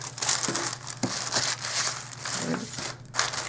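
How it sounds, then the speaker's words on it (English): Plastic wrap crinkles and rustles under the hands as it is smoothed over a table, a steady crinkling texture at close range with a few sharper crackles. "I'm going to make sure this plastic is nice and smooth."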